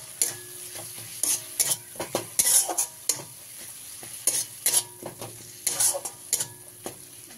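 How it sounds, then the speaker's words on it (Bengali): Turmeric and chili powder masala frying in a pan for cabbage bharta, quiet sizzling broken by bursts of spoon scraping and stirring strokes at an uneven rhythm. "মশলাটাকে ভালো করে কষিয়ে নিতে হবে"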